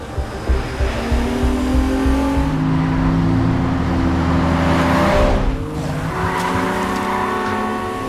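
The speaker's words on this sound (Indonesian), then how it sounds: "Dengan beberapa mobil sport, Sam membimbing mereka agar menggaspol mobilnya ke lokasi." Several sports cars speeding to a location in a film scene, with loud revving engines and squealing tires as the cars accelerate and sweep past, sustained and close throughout.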